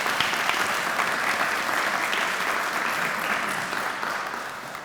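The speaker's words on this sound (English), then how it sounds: "Let's give them both a big round of applause as well." Sustained audience applause at a children's writers contest awards ceremony, a broad, full roar of many hands that stays strong and then tapers slightly toward the end.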